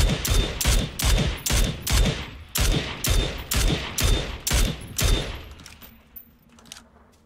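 Automatic gunfire in the video game PlayerUnknown's Battlegrounds: a loud, close string of about a dozen evenly spaced shots over five seconds, then it stops into quiet background.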